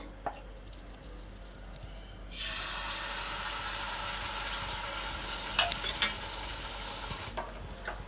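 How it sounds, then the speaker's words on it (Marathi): A malpua goes into hot oil in a kadhai over a medium gas flame: after a quiet start a loud sizzle suddenly bursts up and holds steady, with a few light utensil clinks on top. "इथे मी कढई ठेवली आहे आणि तेल गरम करत ठेवलं आहे आता मी एक मालपाव घालून घेते त्याच्यामध्ये"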